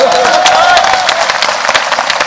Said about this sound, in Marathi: काय सुंदर एकदा टाळ्या देतात.